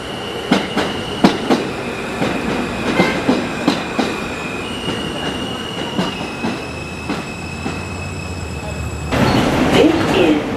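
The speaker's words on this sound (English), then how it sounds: "This is Manhattan bound N train." A Manhattan-bound N subway train rolls along the rails with rhythmic clickety-clack wheel beats and a steady high tone, rumbling louder near the end; faint talk mixes in.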